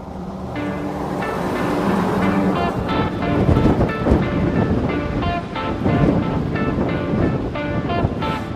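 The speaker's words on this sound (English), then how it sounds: "Windy out here today" Strong wind roaring steadily across a microphone outdoors while cycling on a bike, loud and continuous, buffeting throughout with no one talking.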